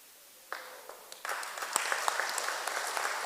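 Congregation applause during a Kikuyu church service breaks out about half a second in, a dense, steady patter of many hands clapping that swells slightly and carries on to the end.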